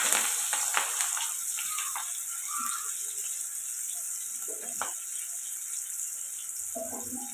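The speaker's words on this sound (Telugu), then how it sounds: "ఇవి బాగా ఫ్రై అయ్యేలాగా కలుపుకుందాం" Green chillies and onions fry in a pan and are stirred, a steady hissing sizzle at moderate level with occasional light scrapes and clinks, no one talking.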